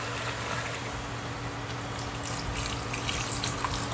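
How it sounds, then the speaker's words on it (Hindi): Water pours steadily into a cooking pan of spiced vegetables, a continuous close rushing splash lasting several seconds with no talk. "इसमें करना है थोड़ा पानी ऐड"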